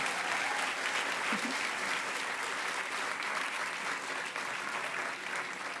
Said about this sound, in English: A round of applause for the AV guys real quickly.